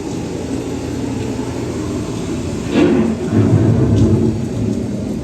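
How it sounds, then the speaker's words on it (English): A simulated thunderstorm on EPCOT's Living with the Land boat ride makes a continuous low rumble with swelling thunder rolls midway. Effects play steadily in an indoor attraction. "The approaching storm may seem violent and destructive to us"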